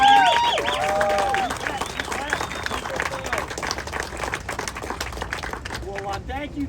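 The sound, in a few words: audience applause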